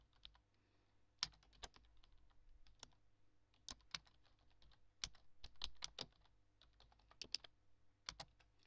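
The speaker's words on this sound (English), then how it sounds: "we're going to type a little something on here" Computer keyboard being typed on in bursts of quick, irregular clicks with short pauses, close and fairly quiet in a still room.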